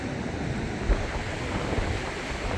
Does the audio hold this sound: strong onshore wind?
yes